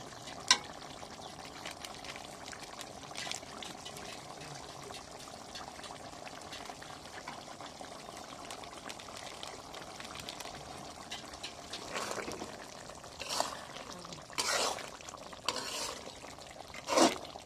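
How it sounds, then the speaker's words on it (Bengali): Meat curry with potatoes and garam masala powder simmering in a pot, with a quiet, continuous bubbling and frying hiss and a few scattered clinks and scrapes of stirring. "গরম মশলার গুঁড়া দিয়ে তরকারিটা নেড়ে দিব"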